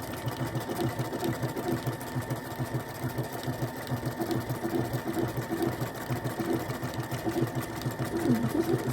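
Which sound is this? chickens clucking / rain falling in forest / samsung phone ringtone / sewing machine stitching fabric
sewing machine stitching fabric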